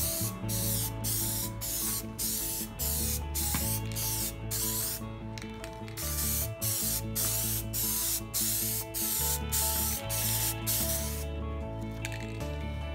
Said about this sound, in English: I'm gonna spray the clear lens tint, the right stuff, on the taillights